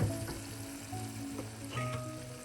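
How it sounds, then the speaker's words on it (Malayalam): Tomatoes and onions sautéing in a pan for a potato and egg curry, a soft continuous sizzle with occasional light stirring scrapes and a faint steady hum underneath. "തക്കാളി ഉള്ളിയൊക്കെ ഒരു നന്നായി വഴറ്റിയിട്ടുണ്ട്"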